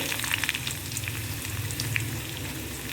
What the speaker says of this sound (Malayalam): ഈ ഉള്ളി നന്നായി ഒന്ന് വഴന്ന് വരട്ടെ.